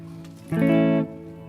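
Single guitar note through a heavy reverb pedal, struck sharply then sustained with a dense wash of tail, fading into a lingering shimmer after about half a second.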